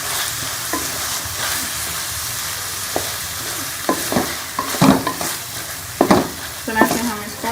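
Minced qeema stirred and mixed in a hot pan: a constant sizzle with irregular spoon scrapes and knocks growing busier toward the end, close by and without voices.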